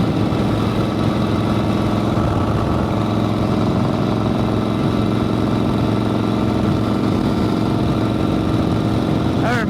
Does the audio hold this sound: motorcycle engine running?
yes